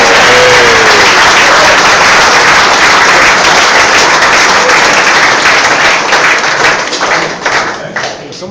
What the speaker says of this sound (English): I think a big round of applause to Mike and all the staff that looked after